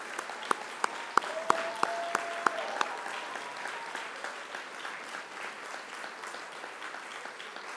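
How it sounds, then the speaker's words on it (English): Audience at a university graduation ceremony breaks into applause, a few sharp early claps swelling into sustained, moderately distant clapping that slowly thins out. "please join me in giving a round of applause to your family and friends and your communities"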